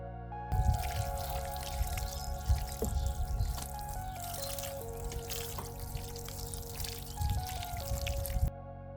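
Water trickling and dripping from a watering can onto compost over sown carrot seeds in a container, a gentle, uneven splatter that runs steadily for several seconds, close and soft.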